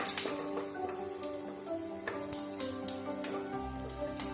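Curry leaves hitting hot oil with golden-brown fried onions in a pan, a dense crackling sizzle that stays loud and close throughout, with no talk over it.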